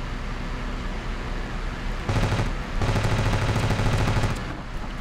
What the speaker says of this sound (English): It looks like he's going in for a strafing run.